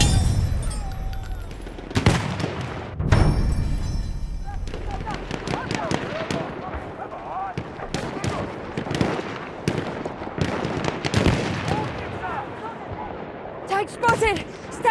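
Enemy machine gun fire in a Battlefield 1 battle, with rapid bursts of sharp shots and scattered louder cracks and booms spread through the scene, amid shouting voices and battlefield clamor.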